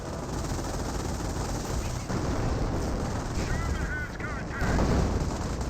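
Gunfire rattles through a Company of Heroes 1 battle: sustained rifle and machine-gun bursts, with Panzer Grenadiers and an airborne squad under fire. The shots come as a dense, continuous barrage with heavier booms layered in.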